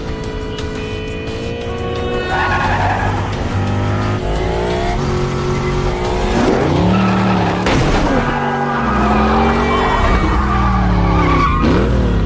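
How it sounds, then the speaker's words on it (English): Film car chase around the Arc de Triomphe, with engines revving and tires skidding and squealing over a loud, dense mix of traffic and music-like tones. "This scene is what we call the Arc de Triomphe, car chase scene."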